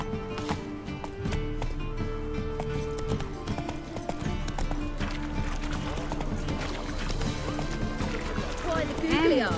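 Roach, a horse in the video game The Witcher 3, gallops in a steady clip-clop of hooves under continuous game ambience, with someone talking over it.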